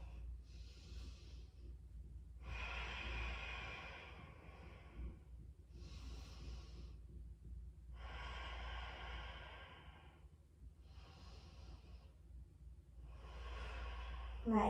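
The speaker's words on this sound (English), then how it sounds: "Nice, even breaths." Slow, even breathing during a yoga sun salutation, with soft airy inhales and exhales alternating in a steady rhythm, close and quiet against a faint low hum.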